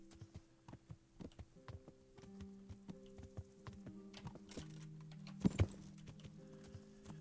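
Horse hooves clip-clop in a steady galloping rhythm inside the medieval video game Kingdom Come: Deliverance, moderately loud, with a brief thud near the end and a low hum underneath.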